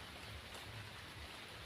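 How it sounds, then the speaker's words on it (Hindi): Steady rain pours continuously in a dense, even hiss with a low rumbling undertone, close and enveloping, with no voices. "आपको लग रहा होगा पूरा भीग गए हैं बारिश में"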